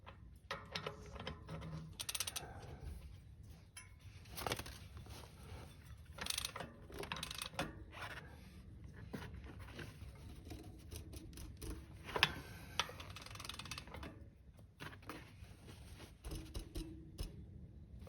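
A wrench tightens a Hunt TrailWide hub body for SRAM XD to Shimano Micro Spline conversion, giving faint, close ratcheting clicks and small metallic mechanism noises spread through a quiet workshop.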